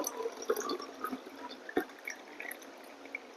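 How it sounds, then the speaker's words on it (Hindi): Water poured into a clear glass holding a pencil, in a light-refraction experiment; soft, faint trickling and dripping with a couple of small clinks, close and quiet, no talk. "अब मैं जैसे इसमें पानी डालूंगा"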